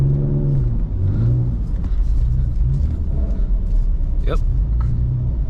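A BMW E39 drifting through a blizzard: a steady engine drone that rises and falls in pitch as the revs change, loud and close from inside the car, with a voice talking over it briefly.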